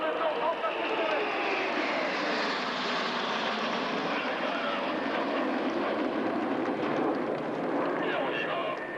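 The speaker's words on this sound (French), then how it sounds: "Et 7 avions sur le dos en patrouille serrée." Seven Patrouille de France jets fly inverted in tight formation during a 1998 air show display at Le Mans, their engines a steady, broad, distant roar that fills the whole stretch.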